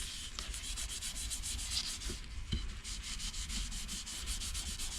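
A white Scotch-Brite pad rubs finish onto a turned wooden winged bowl in quick, even back-and-forth strokes. The scrubbing is close and steady throughout, with no talk.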